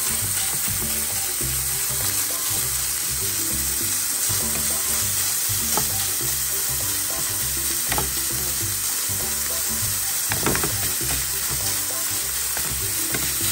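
Ground pork fries in a pan without oil for a homemade curry, crackling with a constant sizzle and sharp scraping stirs at intervals, close and loud, with no talking.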